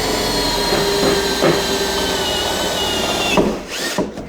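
A power drill bores rivet holes during a motorhome build, a steady loud whine with a continuous tone, briefly dipping and then stopping near the end, close and without talk.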